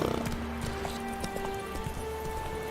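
Roach, the horse in The Witcher 3, gallops with steady, close clip-clopping hoofbeats over a continuous game background hum.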